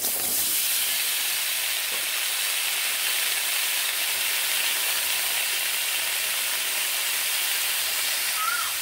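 Potatoes, carrots and papaya frying together in hot oil give a steady, even sizzling hiss that runs unbroken and fairly close throughout.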